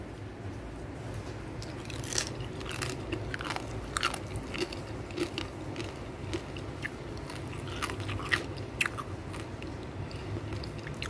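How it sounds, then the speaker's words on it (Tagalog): Crunchy fried food is bitten and chewed up close, a run of sharp crisp crunches and crackles repeating irregularly over a low background with no talk. "Kung naririnig nyo, talagang crunchy siya."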